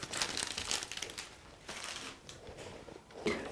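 Sheet of brown paper crinkled and rustled by hand, close and fairly soft, with busy crackling bursts that rise and fall over a few seconds and no talking.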